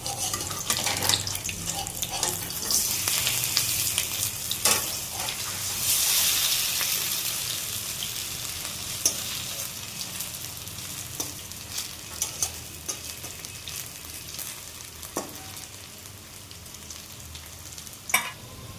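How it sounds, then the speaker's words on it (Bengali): Karkal pur fritters sizzle loudly in hot oil as they are flipped in the pan. A continuous close crackle runs throughout, broken by scattered clicks and scrapes of the utensil. "ভাজাটা উল্টিয়ে দিচ্ছি।"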